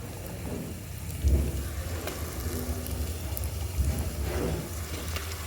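Onions, green chillies, curry leaves and ginger-garlic paste frying in a pan over a wood-fired stove for a boti curry; a soft, steady sizzle with a few low thumps from the pan, no talking.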